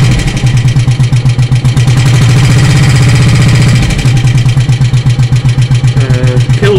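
A 2007 Bullet 500 single-cylinder motorcycle engine revs up loud and close, its steady pulsing thump rising in speed, then settling back toward idle near the end.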